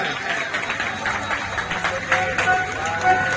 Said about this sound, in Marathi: सर्वांनी टाळ्या वाजवा. टाळ्या वाजवा एक वेळेस.